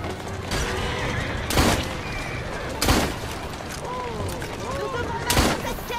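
Gunfire in the video game Assassin's Creed Syndicate: several sharp, loud shots at irregular intervals over a busy background of mechanical clatter.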